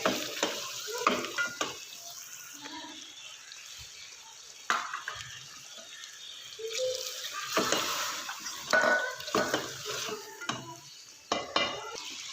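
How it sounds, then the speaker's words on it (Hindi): Chicken karahi fries in a pan for a restaurant-style dish, with a soft sizzle under irregular bursts of spoon scraping and stirring, close by and without speech. "ये देखें जी, चिकन हमारा अच्छे से भून चुका है।"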